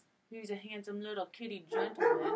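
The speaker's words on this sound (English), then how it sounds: "And that's my dog being jealous that I'm talking to the cat." A dog gives a run of short whining yips and barks, close and fairly loud, with a person speaking over it.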